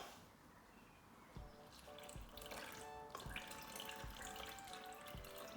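Water pours steadily into flour and yeast for pizza dough, a soft, close trickle and splash that gradually grows fuller, with faint clinks and no talking.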